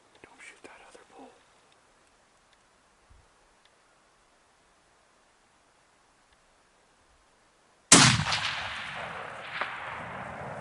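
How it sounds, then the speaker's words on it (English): During an elk hunt, a rifle shot cracks out loudly and suddenly after a long quiet stretch, its echo rolling away across the hills, with faint whispered talk before the shot. "Squeeze that trigger."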